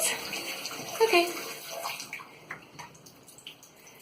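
Water gushes from a shower after a diverter repair, a bright continuous spray that splashes and gradually settles into a softer, uneven patter.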